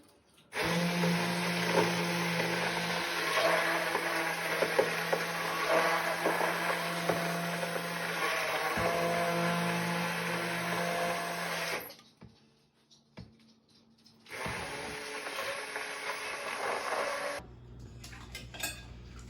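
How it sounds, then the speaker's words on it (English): A loud, whirring immersion blender runs steadily for several seconds through butternut squash soup, stops briefly, then starts again before cutting off. "now we're going to blend it all with the immersion blender"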